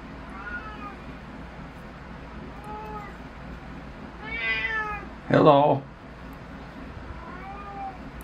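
A cat meows repeatedly near a greenhouse, several drawn-out calls spaced a couple of seconds apart, one louder and closer, while a person speaks a brief greeting.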